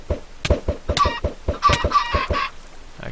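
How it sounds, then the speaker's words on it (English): Chickens in the video game Minecraft give rapid, repeated clucks in an irregular rhythm, close and clear, with several squawkier calls in the middle. No talk is heard. "Actually, I should put a few chickens inside."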